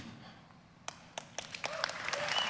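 Audience applause at the Ubisoft E3 2019 presentation, starting with a few separate claps from one person and quickly swelling into broader clapping from a large crowd.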